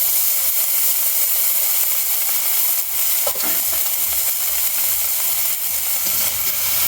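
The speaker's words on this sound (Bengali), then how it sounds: "এখন এই তেলের ভিতরে আমরা চাপা শুটকিগুলোকে ছেড়ে দিচ্ছি জাস্ট ভাজার জন্য।" Dried fish (chapa shutki) frying in hot oil, a steady close sizzle and hiss throughout with a brief spatter crackle partway through.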